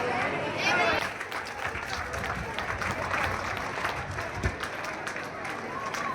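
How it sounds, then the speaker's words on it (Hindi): Audience applause at a public gathering in Mohanlalganj, Lucknow, with steady clapping and crowd chatter throughout, voices mixed in underneath. "एक बार जोरदार तालियां हो जाए"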